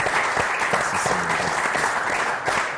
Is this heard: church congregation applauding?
yes